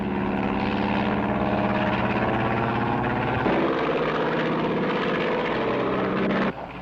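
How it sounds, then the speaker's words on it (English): A propeller plane flies overhead above a forest, giving a loud, steady engine drone that holds for several seconds and then cuts off abruptly near the end. "You know anybody else who flies that kind of plane?"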